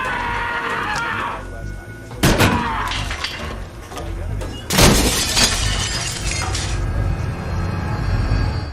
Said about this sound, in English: Gyllenhaal smashed a mirror so hard he sliced his hand open.